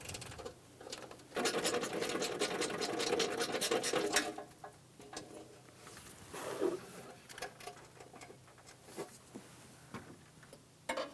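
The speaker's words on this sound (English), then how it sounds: "Using a 10mm socket, remove the bolt on the outside of the battery tray." A 10mm socket wrench removes a bolt from a car battery tray on a 2003-2008 Honda Pilot, giving a burst of fast ratcheting clicks and then scattered scrapes and taps, close and fairly quiet.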